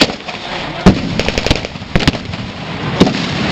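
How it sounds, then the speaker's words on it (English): Mortar fire at a V.E. Day battle re-enactment show at the Royal Gunpowder Mills comes as loud, sharp bangs spread irregularly across the scene, with smaller pops and crackles between the heavier reports. "The British are laying down some form of mortar."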